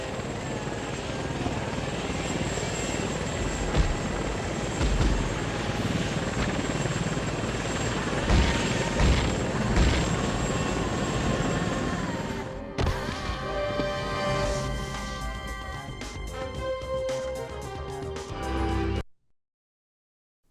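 A helicopter in the ending cutscene of the PS2 game Fugitive Hunter gives a steady, loud, dense rotor-and-engine roar for about twelve seconds. The sound then shifts into quieter layered tones and cuts off abruptly near the end.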